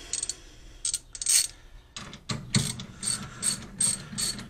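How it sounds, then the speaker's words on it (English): A ratchet wrench tightens brake caliper bolts from a Wilwood brake kit on a 1957 Chevy Bel Air, several short bursts of rapid clicking with brief pauses, close and clear. "these ones get torqued down to 40 foot-pounds"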